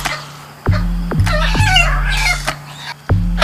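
Chickens cluck loudly and close by while a rooster crows in short repeated bursts, the calls overlapping in a busy poultry yard with no talk.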